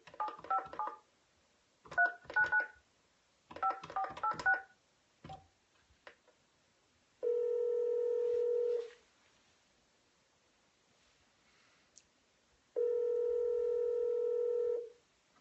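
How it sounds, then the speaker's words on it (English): Telephone dialing tones while calling a list of prospects: three quick clusters of touch-tone beeps, then two long steady ringback tones separated by silence, clear and close. "Just dial until you find somebody."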